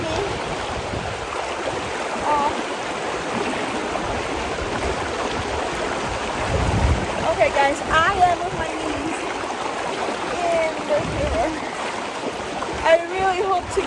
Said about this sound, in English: This river is so intense.